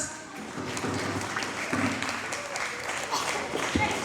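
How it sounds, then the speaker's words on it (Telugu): An audience applauds children from the Louis Blind School at a cultural programme, a moderate burst of scattered clapping that rises and falls, with a voice talking over it. "లూయి బ్లైండ్ స్కూల్ వారికి ఒక చిన్న మూమెంట్ ప్లీజ్ క్లాప్స్"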